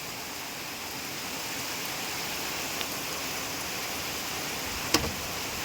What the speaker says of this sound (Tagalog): Tuloy-tuloy ang ulan.